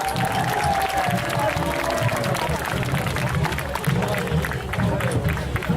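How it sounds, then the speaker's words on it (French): An audience at a cosplay contest during the Yggdrasil festival claps steadily in a sustained burst of applause, crowd noise filling the hall while voices carry through. "je veux qu'on les applaudisse bien fort encore une fois"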